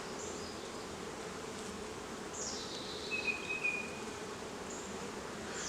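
Honey bees drone steadily at an open hive while beekeepers work the honey super frames, a dense, even buzz that holds throughout, with a few louder passes from individual bees flying close by.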